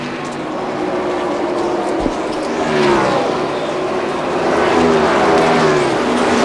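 NASCAR race cars roar past on the track in a loud, continuous pack, engine notes swelling and sweeping as they pass, with a faint commentator voice beneath the engine noise.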